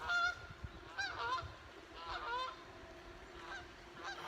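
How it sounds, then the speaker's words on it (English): Geese honking several times in quick irregular bursts, fairly faint and somewhat distant on a quiet morning walk outdoors. "uh-oh, comes some geese"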